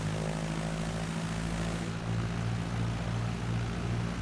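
A propeller aircraft engine in a flight simulator drones loud and steady as power is added to taxi across grass, a continuous throbbing hum that rises slightly in pitch partway through.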